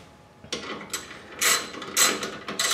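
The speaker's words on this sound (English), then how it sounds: "I'm gonna tighten up these nuts." Socket wrench working nuts on the exhaust of a Honda CX500 motorcycle, heard as several short, bright mechanical ratcheting bursts with brief pauses between them, close up and fairly quiet.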